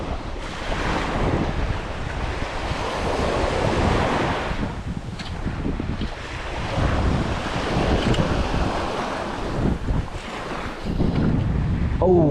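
Ocean waves break and wash along a tropical island beach in a loud, surging roar that swells and recedes, with heavy wind buffeting throughout and no talking.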